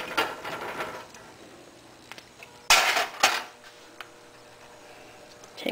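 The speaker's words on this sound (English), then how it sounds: "I'm going to transfer them into my baking pan." Sweet potatoes cooked with cinnamon and ham for Thanksgiving are moved into a baking pan, giving a few sharp clatters and scrapes of utensils against cookware, loudest in one burst midway, with quieter clinks around it and no talking.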